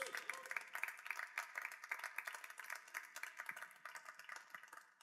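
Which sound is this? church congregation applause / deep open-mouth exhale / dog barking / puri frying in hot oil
church congregation applause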